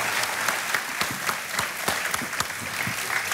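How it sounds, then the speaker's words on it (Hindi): A studio audience at a televised quiz show claps steadily, a dense, sustained wash of applause with sharp individual claps standing out, close and loud throughout. "तालियां बजती रहें"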